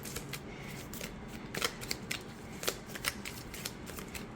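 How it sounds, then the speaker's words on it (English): A pocket-edition Star Seeker tarot deck of matte cardstock is side-shuffled close by, a soft continuous rustle of sliding cards broken by quick sharp snaps, with no talk. "Side shuffling, also not an issue."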